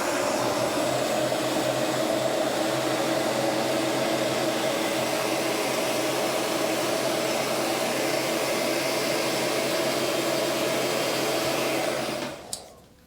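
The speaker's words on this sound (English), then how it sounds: "I'm going to take the heat gun, warm it up to about maybe 120" A heat gun warms a dented car panel with a loud, steady whooshing blower roar and constant hum that runs unbroken for about twelve seconds before cutting off with a click.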